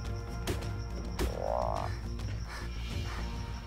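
Frogs croak in a damp dungeon room in the ARK Mobile video game, a rising croak standing out over a steady layer of game ambience and music.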